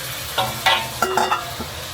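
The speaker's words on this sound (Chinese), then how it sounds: "香味激发出来后，直接下入蒸软的茄子" Steamed, softened eggplant stir-fried in a wok with sauce over low heat, a steady soft sizzle broken by several sharp spatula scrapes and tossing clatters, close and alone.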